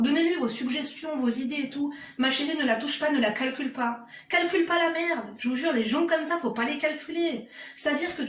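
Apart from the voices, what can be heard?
No distinct noise like a dog, phone or traffic.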